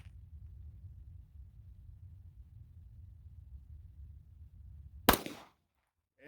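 A single sharp 9mm pistol shot from an S&W SD9VE firing Winchester Ranger T-series 147 grain ammunition, loud and abrupt after several seconds of low outdoor rumble, followed by a brief echoing tail.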